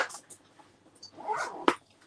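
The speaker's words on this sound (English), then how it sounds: "I've just got to go on a cat in the house." A cat in a house lets out a couple of drawn-out, wailing meows, the last one sharper and louder, with quiet gaps between them.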